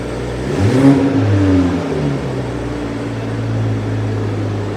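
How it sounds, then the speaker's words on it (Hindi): A BMW M340i engine revs up sharply with a throaty exhaust roar in a showroom, then settles back to a steady rumbling idle, close by with no talking. "एक बार इसका एग्जॉस्ट सुनते हैं।"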